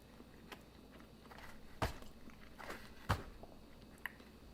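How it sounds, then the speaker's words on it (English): Someone chews sausage pizza from Little Caesars at a mukbang, with soft, close bites and a few sharper crunches spaced over a quiet, steady background. "Keep chewing."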